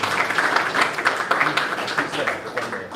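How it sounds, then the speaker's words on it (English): An audience at a hackathon final demo claps in a short, moderate round of applause, with scattered hand claps blending into a soft patter for a few seconds. "Big round of applause for immigration."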